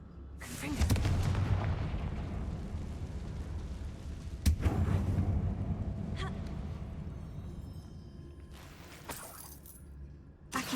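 Confringo blasting spells explode in Hogwarts Legacy: a heavy booming blast opens, a second sharp blast hits midway, and each is followed by crackling debris and a rumbling tail.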